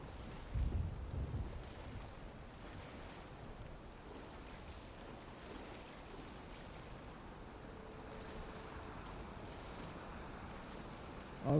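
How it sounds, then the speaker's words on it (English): Rough ocean waves in Valheim roll as a low, continuous wash of surf and wind, fairly faint and steady, with a brief louder swell near the start and another at the very end. "the waves are getting a bit intense"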